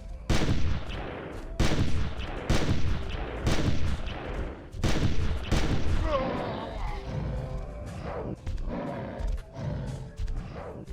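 Shotgun firing in the Carnivores Legacy dinosaur-hunting video game, a series of loud booming blasts spaced a second or two apart, with a voice speaking between some of the shots.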